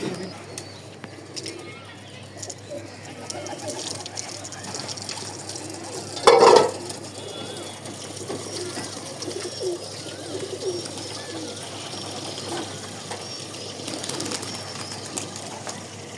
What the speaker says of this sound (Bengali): সব কবুতর ছাড়া আছে, কিছু কবুতর ঘরে আছে